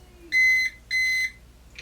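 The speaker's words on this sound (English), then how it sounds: "We got our 2 beeps, so it was successful." Two steady electronic beeps from a Kwikset Powerbolt 2 electronic lock confirming programming, each lasting about a third of a second, with a short pause between them, clear and close.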